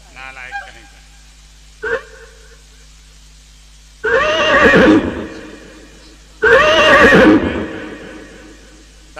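A horse neighs twice in a folk theatre performance, two loud, long whinnies a couple of seconds apart, heard close after a few faint earlier sounds.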